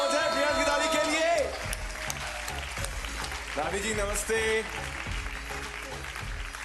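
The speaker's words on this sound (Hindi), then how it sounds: "जोरदार तालियां हो जाए प्रियांश की दादी के लिए।" A studio audience applauds for Priyansh's grandmother on a kids' TV show, the clapping running under music and a voice greeting her.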